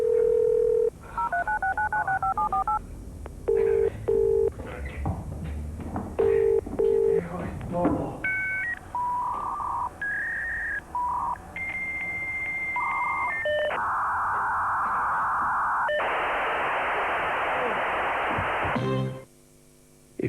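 Advert for broadband in which a dial-up internet modem connects: touch-tone dialing beeps, then a series of shifting handshake tones ending in a loud hissing burst and a sudden cutoff.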